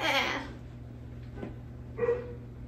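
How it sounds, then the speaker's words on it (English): Dogs barking indoors at a moderate distance, a short loud burst at the start followed by a couple of softer yips, over a low steady background hum. "now they bark."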